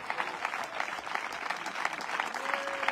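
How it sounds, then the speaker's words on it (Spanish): A church congregation at an evangelistic service gives a sustained round of applause, dense and steady, heard from within the hall. "¿Cuántos tienen un fuerte aplauso al Cristo de la gloria?"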